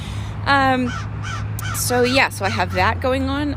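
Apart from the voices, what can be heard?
crows cawing in the background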